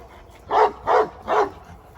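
A dog barks three times in a steady rhythm, close and fairly loud, with a quiet background between barks.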